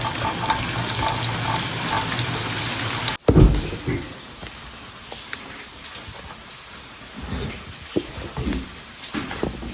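Tempering for sambar sizzles in hot oil in a home kitchen: a steady, loud frying hiss for about three seconds, then an abrupt drop to softer crackling and scattered clatter, with no talking.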